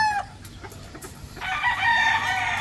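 Grey pullets on a farm give loud nearby clucks and squawking calls, several overlapping, with a rising burst of vocalizing toward the end.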